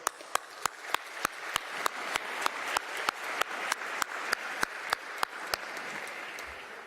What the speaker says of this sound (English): Today, we applaud you